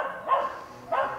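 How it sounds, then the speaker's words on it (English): Two short dog barks, somewhat distant and moderately loud, spaced about half a second apart in an outdoor garden setting, with no one talking. "every time it happens, when I have to film, the dogs have to bark"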